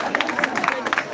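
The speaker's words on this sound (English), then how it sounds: "Can you applaud him?" A small crowd at a school farm camp crisps-making class claps for a child, a quick patter of scattered hand claps mixed with murmuring voices, close and lively over about a second.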